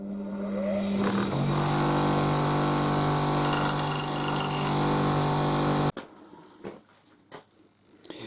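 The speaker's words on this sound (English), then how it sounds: "what I've just done is I touched it up on the old grinder actually, just because these are concave" An old bench grinder touches up the concave blades of vintage Compton tailor's shears, giving a loud, steady, tonal whine that shifts pitch early on, then cuts off abruptly to quiet handling noises.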